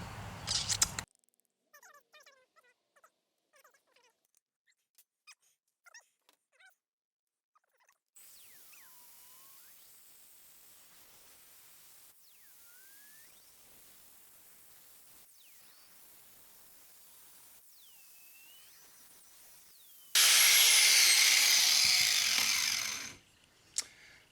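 A patch being welded onto a unistrut steel rail: after a quiet stretch of faint ticks and chirps, a loud, steady crackling hiss bursts in for about three seconds, then cuts off.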